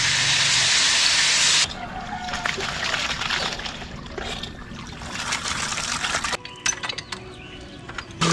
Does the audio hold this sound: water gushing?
yes